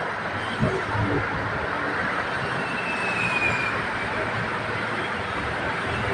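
A BTS Silom Line skytrain pulls into platform 3 at Saphan Taksin station in Bangkok, a steady loud rumble of wheels and cars with a thin metallic squeal rising briefly midway.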